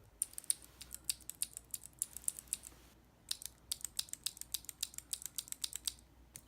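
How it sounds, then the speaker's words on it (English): Clicky Cherry MX Blue mechanical keyboard switches being typed on, two quick bursts of crisp, sharp keystrokes separated by a short pause, close and clear with no voices. "And then this is a Cherry MX Blue."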